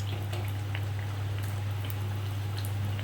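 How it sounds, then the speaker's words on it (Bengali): Malpua frying in hot oil makes a continuous bubbling sizzle with scattered small pops over a low steady hum, close and fairly quiet. "কমিয়ে বাড়িয়ে আমি এইভাবে লাল করে ভেজে নেব।"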